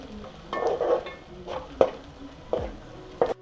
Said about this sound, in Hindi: बड़ी इलायची काली, एक फूल, थोड़ी सी लौंग, दालचीनी और इसे हल्का गुलाबी भूनते रहेंगे।